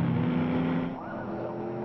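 A race car in a NASA CMC club race on a road course, led by Chris Ferraro, roars past toward turn one: a loud, steady engine drone whose pitch bends downward as it goes by.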